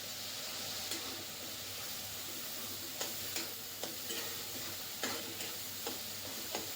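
Turmeric and cumin sizzling in a hot pan, a soft steady frying hiss with light scattered clicks of a spoon stirring against the pan.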